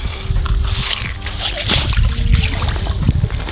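A big walleye is lowered back into lake water at an early-ice spot on Red Lake, sloshing and splashing close by in choppy bursts, with someone talking over the water noise.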